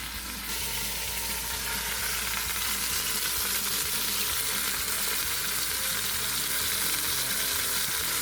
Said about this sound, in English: it's in there sizzling